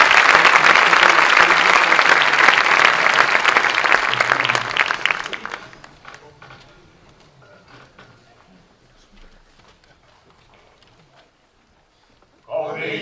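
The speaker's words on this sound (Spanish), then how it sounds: "Un aplauso, por favor." Applause from an audience at a Falange Española y las JONS anniversary event, ahead of the Blue Division hymn. Loud, dense clapping lasts about five seconds and fades to near silence, then a voice cuts in at the end.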